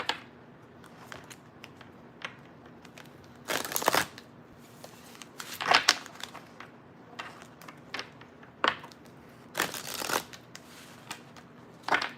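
Playing cards are shuffled close by, with several riffling bursts and quick flicks and taps between them in an otherwise quiet room.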